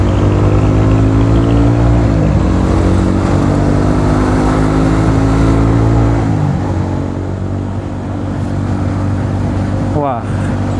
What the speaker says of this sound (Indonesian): Ini suara knalpotnya mantep banget nih